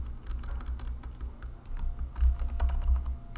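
Rapid, steady keystrokes on a computer keyboard while entering website markup, close and clear with uneven bursts of clicks and no talking.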